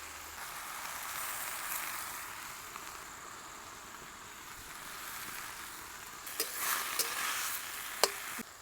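Vegetables sauté with soaked moong dal in oil, a faint, steady sizzle, with a few light stirring clinks near the end.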